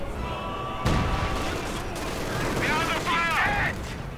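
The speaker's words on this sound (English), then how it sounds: "Lots of artillery now, in fact, going down here" Artillery and gunfire rumble through a WWII strategy game battle, a sharp blast onset followed by sustained dense explosions and shots, with whistling shell sounds layered near the end.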